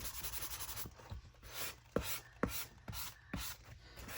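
Close, dry scratchy rubbing strokes of a sanding block scuffing glossy paper, a rhythmic series of rasping scuffs, each ending with a light tap, with no talking.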